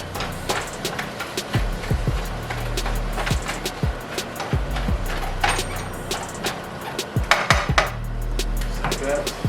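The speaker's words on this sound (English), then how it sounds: "you're going to put a top on it" Lid set onto a pan of cooking ground beef for tacos, with a run of sharp metallic clanks and taps of cookware and utensils scattered over several seconds above a low background hum.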